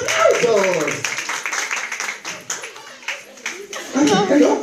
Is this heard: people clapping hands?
yes